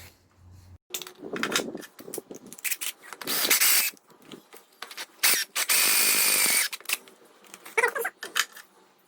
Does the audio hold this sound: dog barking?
no